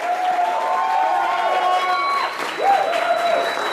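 Audience applause and crowd noise at a small performance venue as a performer walks up to the stage, a steady wash of clapping with some whoops, while tonal squeals and a tone ring through the room.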